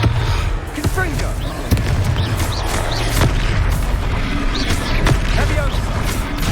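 Explosive Confringo spell blasts in the Hogwarts Legacy video game land as several sharp, punchy booms scattered over a busy, rumbling combat background.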